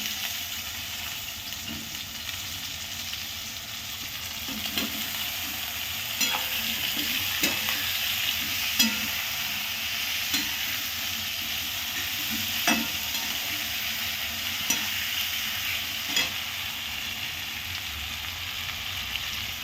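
Drumstick pods sizzle steadily in a pan of homemade masala as a spoon stirs them, with repeated scraping clicks rising over the continuous frying hiss, close and fairly loud, no talking.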